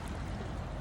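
Water rushes steadily through a narrow channel in a stream, a dense, continuous broadband wash that sounds close and loud with no talk.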